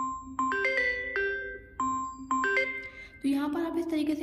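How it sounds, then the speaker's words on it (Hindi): A Samsung Galaxy A34 5G ringtone preview plays: bright, clear electronic chime tones in a repeating melodic pattern, close and alone, with a brief fuller, busier burst of tones at the end. "यहाँ पर आपको बहुत सारी रिंगटोन्स देखने को मिल जाती हैं।"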